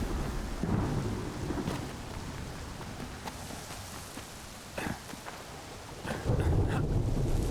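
Thunderstorm in the video game Smalland: steady rain hisses throughout while deep thunder rumbles swell and fade, with a louder roll near the end.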